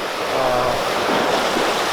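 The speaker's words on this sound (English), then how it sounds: "A wave crashes in and splashes water all over." Ocean waves wash against the rocky shore of Parashuramana Dweepa island near Malpe, a steady rushing surge that swells midway, with some wind buffeting and no voices.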